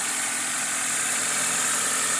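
A 1997 Toyota Corolla DX engine idles steadily and smoothly, a close, even hum with no talk over it.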